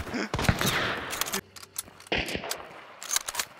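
Gunfire in the video game Hunt: Showdown, a cluster of sharp shots early on, then more bursts after a short lull, with players' voices talking over the action.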